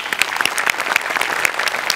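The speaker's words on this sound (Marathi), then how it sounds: "मस्त झाला परफॉर्मन्स, जोरदार टाळ्या." An audience applauds after a comedy performance on a Marathi stage show, with loud, dense, continuous clapping from a crowd close by.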